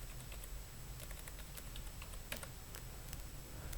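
Quiet typing on a computer keyboard while filling in a Google Form, a soft, irregular patter of key clicks over a low background hum, with no speech.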